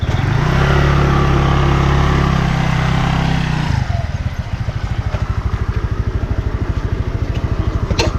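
Motorcycle engine running loud and close, a steady droning idle that cuts to a slower, rapid putter of distinct low pulses for the remaining seconds, with no talking.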